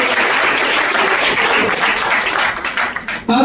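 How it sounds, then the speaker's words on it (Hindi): Loud, close applause from students and guests at a Class 10 school farewell ceremony in a tuition centre, vigorous and dense throughout before breaking up into scattered claps at the end. "जोरदार ताली होनी चाहिए।"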